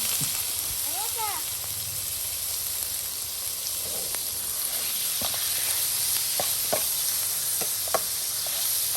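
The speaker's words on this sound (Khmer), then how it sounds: "បន្ទាប់មកដាក់សាច់ជ្រូកចូលក្នុងខ្ទះ" Pork frying in a pan after lard, shallots and garlic, a steady sizzling hiss with light stirring and scraping clicks throughout, close and continuous.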